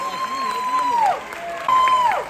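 Steady applause from a crowd at a high school graduation, with shrill whistles cutting through twice and voices mixed into the cheering noise.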